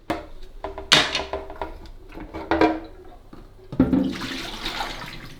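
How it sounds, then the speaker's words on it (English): Water sloshes and pours as the water container of a Delonghi Magnifica S coffee machine is emptied, with plastic clunks and knocks from handling the tank, close and moderately loud. "We're going to take out the water softener and empty out the water."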